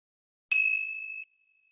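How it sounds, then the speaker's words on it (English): A single meditation bell struck once, a clear ding with a sustained ringing tone that fades over about a second in otherwise quiet surroundings. "And on the next ring of the bell"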